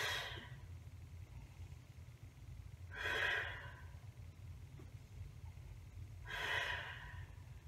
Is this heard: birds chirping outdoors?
no